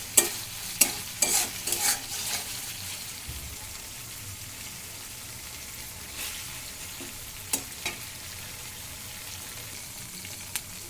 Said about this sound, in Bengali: মশলাগুলোকে এভাবে কিছুক্ষণ কষিয়ে নিব যতক্ষণ মশলার তেল ছেড়ে দেয়